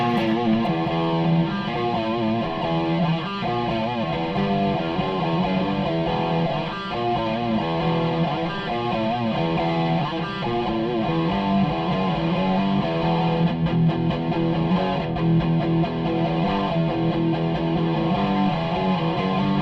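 An electric guitar runs through an LPD Lost Dutchman pedal cranked all the way up, producing a thick, heavily distorted, sustained riff that plays continuously and loudly with no talking.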